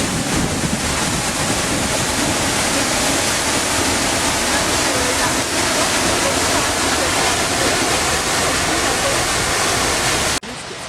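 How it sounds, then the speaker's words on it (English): Heard from behind an Icelandic waterfall, a dense, roaring wash of falling water fills the space loudly and steadily, with gusty wind buffeting the microphone, before cutting off abruptly at the end. "Okay, we're behind the waterfall now."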